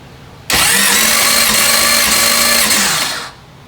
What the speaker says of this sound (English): we're about to do a cranking compression on this thing